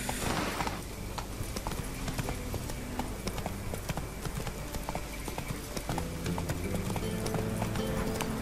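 A horse gallops in The Witcher 3 video game, its hooves clip-clopping in a fast, continuous rhythm close by, with a brief whinny-like tone and a faint voice in the background.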